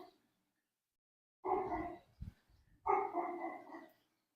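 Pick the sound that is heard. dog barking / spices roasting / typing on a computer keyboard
dog barking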